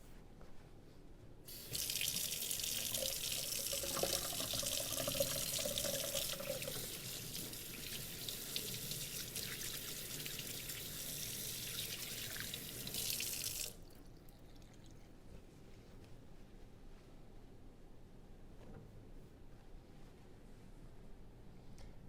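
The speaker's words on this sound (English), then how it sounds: "I'm going to go ahead and wash my hands" A kitchen sink tap runs for about twelve seconds while hands are washed, a loud steady hiss of water with some splashing, then cuts off abruptly and leaves a quiet room.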